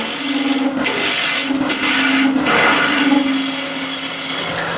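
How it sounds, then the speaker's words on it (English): A negative rake scraper cuts a wood bowl turning on a lathe, giving a steady, continuous rasping scrape with a sustained hum from the machine, close and fairly loud, broken by a few brief pauses. "Or we can use scrapers. This is negative rake scraper."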